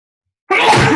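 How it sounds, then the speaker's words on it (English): A single sharp human sneeze bursts out after half a second of silence, loud and close, ending abruptly. "I'm going to sneeze. Hold on."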